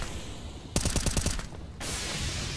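Close-range automatic fire from MAC-10 submachine guns in a CS:GO match on the Mirage map: one dense, rapid burst of about a second of evenly spaced shots, loud over the constant game background.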